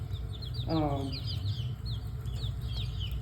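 Small birds chirp with quick high peeps, and a short burst of rapid clucking rises near the start, all over a steady low background rumble.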